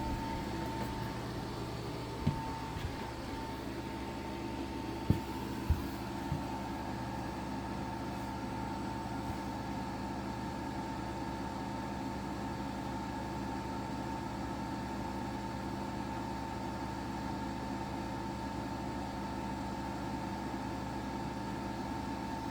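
An EcoFlow Wave portable air conditioner runs at a steady low hum with a faint even whir, heard from about ten feet away outdoors, with a few soft knocks early on and no voices.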